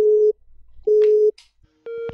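Telephone line tones before a call: three separate steady beeps with gaps between them, clear and close, with brief faint noises in the pauses.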